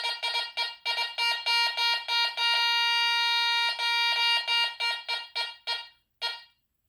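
Rapid electronic beeps from a Garrett Ace 300 metal detector air-testing a target at about 10 inches, in a quick series, merging into one sustained tone and then breaking back into separate beeps that trail off.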